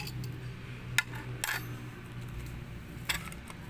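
Half a teaspoon of cumin seeds added to a pot: a few light metallic clinks and taps of a spoon against the pot, close and sparse over a steady low hum.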